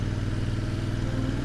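A Royal Enfield Interceptor 650 motorcycle engine runs at a steady, throbbing idle-to-cruise pace, loud and close with a rhythmic pulsing beat and no voices.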